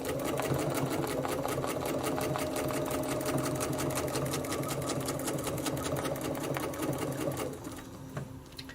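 A sewing machine stitching around a quilting template hums at a fast, steady rate, close and alone, then slows and stops near the end.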